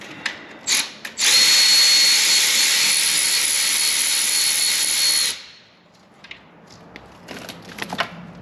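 Power tool whirring loudly for about four seconds while loosening the crank hub on a BMW M2 Competition engine, preceded and followed by short metallic clicks and handling noises.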